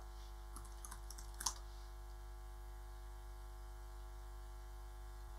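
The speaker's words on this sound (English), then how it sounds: "and then press enter." Keys tapped on a computer keyboard while installing Ubuntu restricted extras, a short burst of small clicks ending in a sharper keystroke, then a steady electrical hum with no talking.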